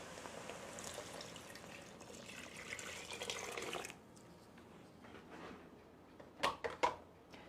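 Measured water, about four and a half cups, is poured into a jambalaya stew, a soft sustained rushing pour for a few seconds, then quiet with a few brief drips and splashes near the end.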